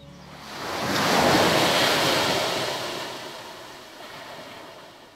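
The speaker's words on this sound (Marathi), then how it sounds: "छान वाटत मला समुद्र किनारा, छान गार वारा." Sea waves on a beach in wind, with one broad wash of surf swelling and then receding over a few seconds under steady wind rush, with no voices.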